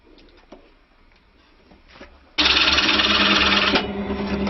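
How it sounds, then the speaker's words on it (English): After a few faint taps, a power drill starts abruptly, whining loudly and steadily as it bores out wood for a stick dulcimer close by. "we're going to just drill out the waist"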